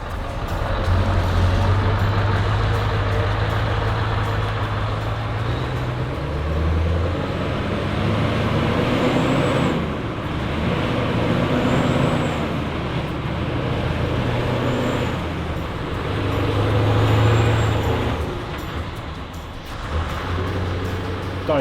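A Scania truck engine rumbles steadily close by, its deep drone swelling and easing in long waves as the load changes, with no voices over it.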